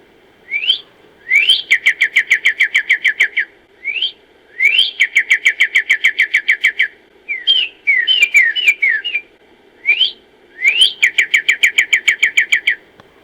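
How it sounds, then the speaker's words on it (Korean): A bird sings loudly and close, repeating rapid trilled phrases separated by short pauses, with a few varied chirps in between. "새소리예요"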